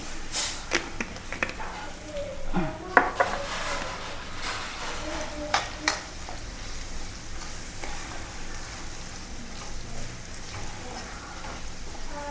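Chili powder fries and sizzles in a pan while being stirred for a nutmeg pickle, with soft spoon scrapes and clinks over a quiet, steady sizzle; a voice speaks at times.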